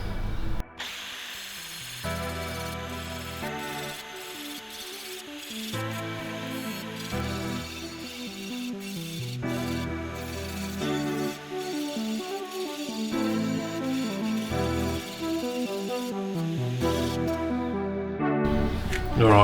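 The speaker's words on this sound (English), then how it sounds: "I guess I'll just grind it until I hit this surface" An angle grinder works on the steel chassis rails of an R31 car, whining loudly and steadily with shifting pitch as it bites into the metal, pausing briefly between passes.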